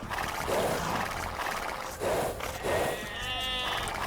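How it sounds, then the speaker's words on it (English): Sheep in the Age of Empires 2 video game bleat three times in quick succession, clear and close, with a brief game chime at the end. "Oh, here's a sheep."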